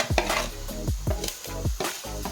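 A spoon stirs chili powder into a mango pickle mix in a pan, with five rhythmic scraping strokes close up, each sweep ending in a soft knock against the metal, steady and fairly quiet.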